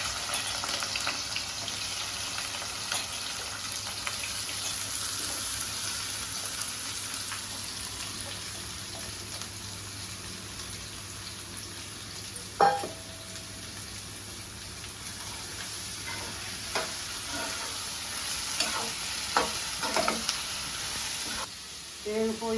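Green chillies and onion pieces frying in oil for a mushroom curry, a steady soft sizzle running throughout at moderate level, with a few brief clinks of a utensil and faint background noise.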